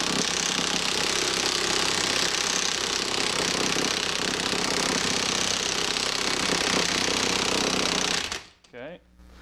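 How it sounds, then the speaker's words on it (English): A cordless impact wrench drives a lug stud through a wheel hub, hammering in a loud, continuous rattle for about eight seconds before cutting off, after which a voice briefly speaks. "I've got my cordless impact here, so I'm going to use this."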